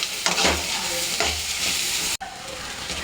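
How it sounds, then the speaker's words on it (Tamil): Onion, capsicum and gram flour frying in a pan, with a steady close sizzle broken by a few scraping stirs and a brief drop in sound near the end. "இந்த வெங்காயம் குடமிளகா கூடவே இந்த கடல மாவோட பச்சை வாசனை போகிற அளவுக்கு ஒரு 2 நிமிஷம் நல்லா ஃப்ரை"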